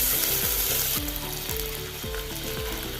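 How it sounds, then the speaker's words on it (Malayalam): Ginger garlic paste is stirred into browned frying onions in a pan, with a constant sizzle under repeated scraping strokes of a spoon, roughly two per second, close up and with no talking. "ഇനി 1 ടീസ്പൂൺ ഇഞ്ചി വെളുത്തുള്ളി പേസ്റ്റ് ചേർത്ത് ഇളക്കി കൊടുക്കാം"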